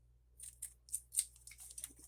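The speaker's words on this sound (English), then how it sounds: "Let's cut this one" Scissors snip through paper while an envelope is made from a 6 x 6 paper pad, a quick run of about seven or eight crisp, close cuts in a quiet room.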